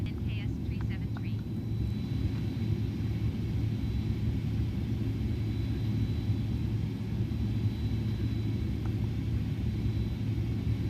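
An Airbus A310-300 accelerates down the runway for takeoff in Microsoft Flight Simulator 2020, a steady loud engine roar and rumble throughout, with a voice talking over it.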